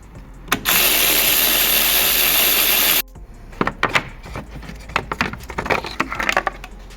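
A ratchet spins off 10mm bolts from the battery tray of a VW Golf Mk6 1.6 TDI, starting with a loud continuous whirring burst, then quicker clicking turns and mechanical handling noises.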